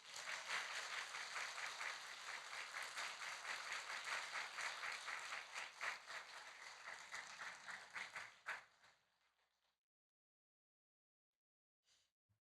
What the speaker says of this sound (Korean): 주님께 영광을 박수 드리겠습니다